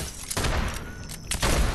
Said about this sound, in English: there's someone shooting at me